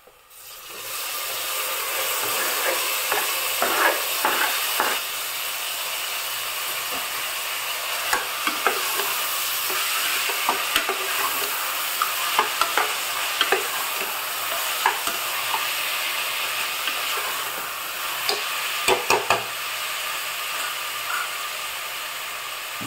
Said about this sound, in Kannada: ಈರುಳ್ಳಿ ಫ್ರೈ ಆಗ್ತಾ ಬಂತು, ಇದಕ್ಕೆ ಕಟ್ ಮಾಡಿದ್ದ ಟೊಮೆಟೊನ್ನು ಸೇರಿಸುವ.